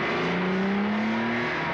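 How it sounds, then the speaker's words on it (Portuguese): A 1974 Datsun 260Z with a 2.6-liter engine revs steadily, its engine note rising in pitch over nearly two seconds, loud and close with no talking. "A new Datsun 260Z."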